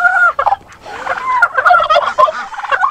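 A turkey in a pen, a hen working on laying an egg, gobbles loudly and close in repeated rapid warbling bursts that carry on almost without a pause.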